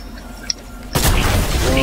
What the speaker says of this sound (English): Oh! I hit a headshot!